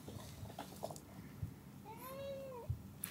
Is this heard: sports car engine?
no